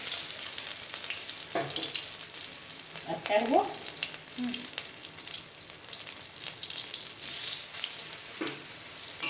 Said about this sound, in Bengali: পটল চিংড়ির জন্য আমরা এবারে আলুগুলোকে ভেজে নিচ্ছি